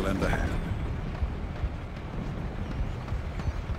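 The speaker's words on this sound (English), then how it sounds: "Freaking explosions everywhere, I swear." Explosions in the stealth video game Splinter Cell Chaos Theory, a dense, loud rumbling barrage with booming low end that continues steadily throughout, with no voices over it.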